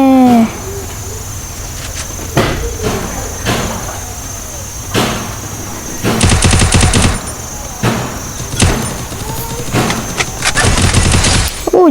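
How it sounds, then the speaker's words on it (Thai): Gunfire in a Free Fire 4v4 match: sharp single shots and short rapid bursts, loud and close, with brief gaps between volleys and some in-game ambient chirping beneath. "ยิงหัวแบบฟุกฟุกค่ะทุกคน"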